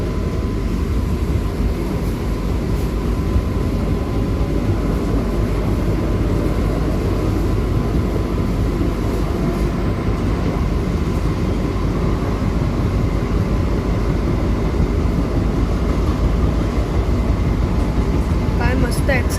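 An AC slow local train pulls out of Dadar station, its motors and wheels building into a steady, loud rumble heard from inside the carriage.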